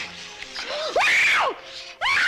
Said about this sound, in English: Stop screaming! I don't want to hurt you.